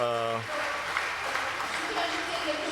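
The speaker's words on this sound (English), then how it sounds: "We applaud Jean-Hervé Lorenzi for the amazing, this amazing rencontre." Conference audience applauds after a tonal voice fades out, a moderate, steady wash of clapping with faint talk beneath it.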